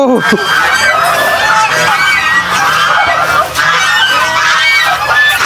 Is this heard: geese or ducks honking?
yes